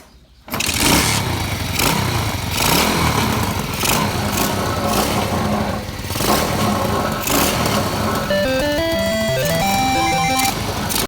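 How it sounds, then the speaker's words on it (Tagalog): A kick-started farm motorcycle engine catches after a quiet moment and runs loud and close, a rough, uneven putter with throttle surges and a rising whine near the end. "so ayan umandar na si Tik-Tik pero di pa ako satisfied dahil di pa nga natin itong turog ni Ray"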